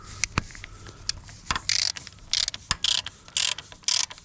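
Oil filter cover bolts on a motocross bike being snugged down with a ratchet, giving short bursts of quick close clicking separated by brief pauses, with a few sharp metallic taps at the start and no talking.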